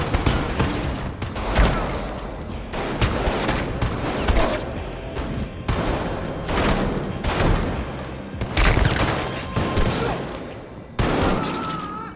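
A film shootout between an agent and Russian mafia, with dense bursts of gunfire in repeated volleys and booming shots, loud and close, broken by brief pauses.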